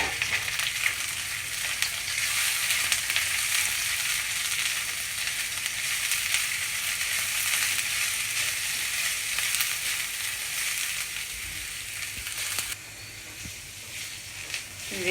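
Thinly sliced cabbage fries in a pan with a loud, continuous sizzle, steady throughout and close up, dipping slightly near the end as if stirred, with no talking over it.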